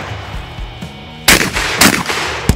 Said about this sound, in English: Picks up the old 12 gauge.